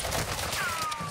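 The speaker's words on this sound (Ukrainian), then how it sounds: "Стріляють до мене!" A rattling burst of gunfire in the video game Call of Duty Modern Warfare II, dense and fairly loud, with a thin whistling streak passing through it.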